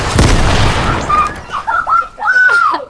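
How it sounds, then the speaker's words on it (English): A grenade explosion in a video game, a loud burst with debris at the start, followed by chirpy, bird-like warbling tones. "Throw the grenade right there in the box."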